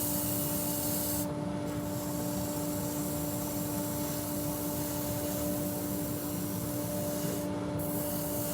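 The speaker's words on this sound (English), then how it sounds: "I'll do a bit of rotary sanding now" A power sander does rotary sanding on a wood-turning piece, grinding continuously against the surface, a steady abrasive whir with a constant hum underneath, no talking.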